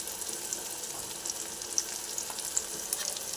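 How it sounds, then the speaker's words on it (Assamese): Steady sizzling of onions and chillies with turmeric frying in hot oil, a soft continuous hiss dotted with small crackles and pops. "এইখিনি গল্ডেন হোৱালৈকে এইখিনি মই পিঁয়াজখিনি ভাজি লওঁ"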